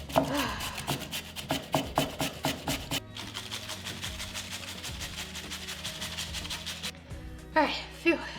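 Potatoes grated on a small flat hand grater in a home kitchen, steady rhythmic rasping strokes up close, a run of regular scrapes, then a brief pause and more strokes, with some talking over it.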